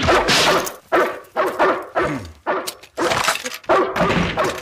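A dog barks repeatedly in short, loud, sharp bursts at a steady rhythm, close by, with no talking.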